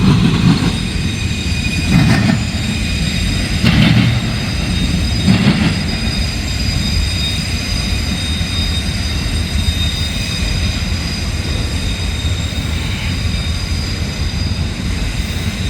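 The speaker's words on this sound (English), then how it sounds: "There goes that IM train" A short intermodal freight train rolls steadily past nearby in Deshler, a constant rumble of wheels with high metallic squeals ringing over it for the whole stretch.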